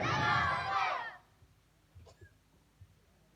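A crowd at a Milad-un-Nabi madrasa annual jalsa roars back a loud, massed chant for about a second, then falls away to quiet room noise with a few faint knocks.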